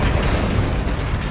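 Incendio fire spell cast in Hogwarts Legacy, a loud, sustained roaring burst of flame with a dense low rumble that holds steady for over a second.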